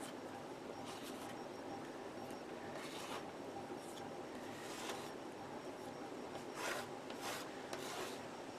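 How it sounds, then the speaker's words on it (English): Paint being wiped off a sheet of cling film in a paint-and-paper session, giving a steady soft rasping rub with brief swishing strokes at a low, even level. "Just wipe this excess off so I can put my page there."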